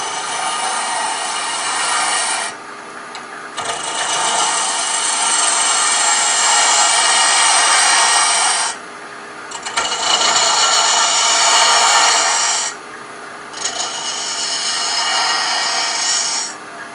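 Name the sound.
woodturning on a lathe, hollowing a mushroom box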